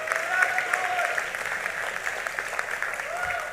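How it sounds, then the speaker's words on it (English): At a high school underclass awards ceremony, the audience applauds the teaching and support staff. The dense, steady clapping is moderately distant and fills the hall with a faint murmur of voices. "so give them a round of applause"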